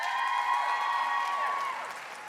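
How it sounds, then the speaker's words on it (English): A crowd applauds at a short film awards ceremony, with steady clapping and a sustained high cheer or whistle riding on top before the sound eases slightly. "Let's give a big round of applause."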